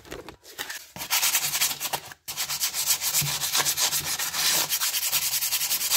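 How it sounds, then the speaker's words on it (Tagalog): A rusty brake shoe is scrubbed with 100-grit sandpaper in fast, continuous rasping strokes, close and loud, with one brief pause partway through. "Gamit naman tayo ng sandpaper. 100. Grit 100."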